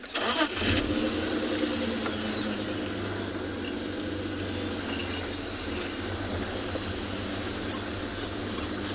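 A safari vehicle engine starts with a short crank and a burst in the first second, then settles into a steady low idle rumble for the rest, close by with no talk.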